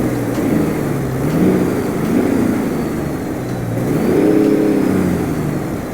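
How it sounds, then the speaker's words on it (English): The 2006 Sisu C600 truck engine in Euro Truck Simulator 2 revs a couple of times, rising and falling in a loud, close mechanical growl with a steady idle between the swells. "And a couple revs."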